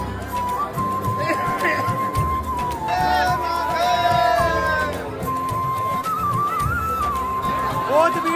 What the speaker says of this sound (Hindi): बाके बिहारी पे 10 मार्च आज बहुत ज्यादा भीड़ लग रही है।